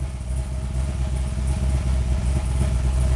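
A car engine idles with cylinder 1 misfiring, giving a steady, close, low rumble with a faint clattery texture throughout, with no talking.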